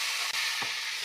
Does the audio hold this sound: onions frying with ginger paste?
yes